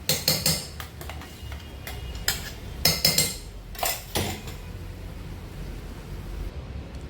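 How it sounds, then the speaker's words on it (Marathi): A spoon scrapes and clinks against a pan while frying masala is stirred for Khandeshi dhaba-style shev bhaji, with several sharp metallic taps early on, then quieter scraping over a faint frying hiss. "आपल्याला चमच्याने चांगलं परतून घ्यायचं आहे"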